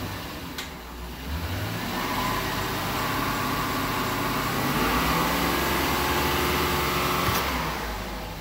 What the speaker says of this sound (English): So I'll just rev it up a bit here again.